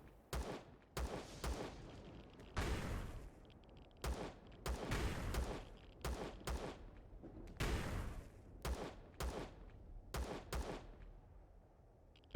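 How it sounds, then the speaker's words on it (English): Scout rifle fire in Empyrion: a string of about a dozen sharp, separate shots in uneven bursts, each cracking out and decaying quickly, fairly quiet overall with no talking. "They're fairly easy to take out with a scout rifle."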